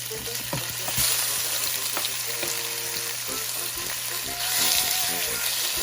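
Pork tocino frying in a pan makes a loud, steady sizzle, with occasional stirring scrapes and clatter over the continuous crackle.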